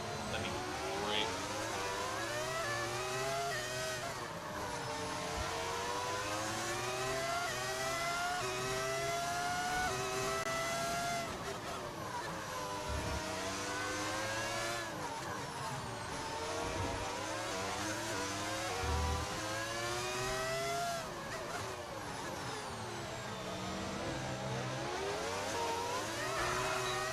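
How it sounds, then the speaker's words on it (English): A simulated V10 Formula 1 engine from the F1 25 racing game wails loudly and continuously, its pitch sweeping up and down as it revs through gear changes over a steady low rumble. "Sound of the car mod? Yes, it is. It's a V10 audio mod."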